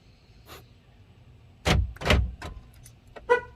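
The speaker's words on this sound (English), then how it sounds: "You'll hear the doors lock and unlock." Power door locks on a 1999 Chevy Tahoe clunk in a quick series of sharp mechanical thuds, two close together then a lighter click and a final snap, with quiet pauses between.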